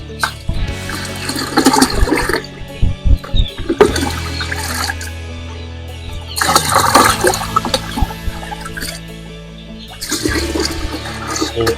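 Water poured from a container into a chicken drinker, roughly two liters per drinker while vaccinating young chickens, heard as several loud splashing, gurgling fills separated by brief pauses and clanks, close up.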